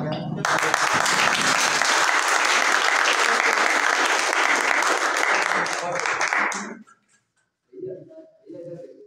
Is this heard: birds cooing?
no